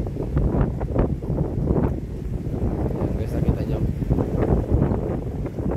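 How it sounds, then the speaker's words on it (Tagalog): Strong typhoon gusts buffet the microphone in a steady low roar on a seaside baywalk, with someone talking over the wind throughout. "Ay malakas talagang hangin talaga"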